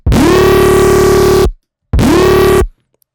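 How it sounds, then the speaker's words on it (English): A Serum 2 software synth patch driven through overdrive distortion plays two loud, buzzy sustained notes, each swooping up in pitch at the start and cutting off cleanly into silence. "we'll do the distortion with the overdrive as well."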